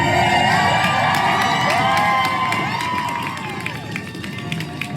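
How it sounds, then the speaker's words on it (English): A large crowd at SeaTac Airport cheering and shouting in welcome, loud and close, with children's shrill calls and whoops layered over a dense roar that eases slightly toward the end. "Here was the crowd welcoming young Seba to SeaTac Airport last night"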